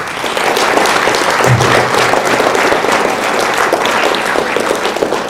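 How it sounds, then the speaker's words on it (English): Crowd at a school fall sports awards event gives loud, steady applause for graduating senior athletes, dense clapping throughout the whole stretch. "big round of applause for those seniors."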